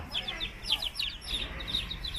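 Chickens on a large farm in Cambodia cluck in rapid, scattered calls over a rough, windy background, moderately close and continuous.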